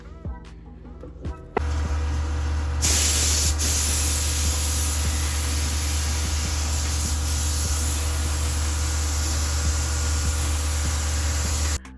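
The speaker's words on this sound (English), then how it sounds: "This is the paint gun I use right here. It's a Harbor Freight Black Widow. Sprays amazing." A Harbor Freight Black Widow paint spray gun, used to paint a truck at home, lets out a few clicks and then a loud, steady, close hiss of spraying that runs for about ten seconds before stopping abruptly.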